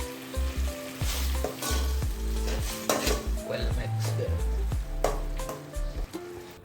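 Curry leaves fry in hot oil for Tamil kara kulambu, crackling and sizzling loudly up close, broken by repeated spoon scrapes and clinks against the metal pan, with no talking.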